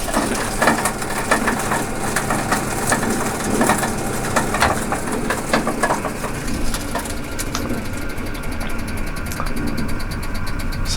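REFORM grinder chopping plastic into small pieces, a loud, continuous crunching and rattling churn with a motor hum beneath, steady throughout with sharper clattering toward the end.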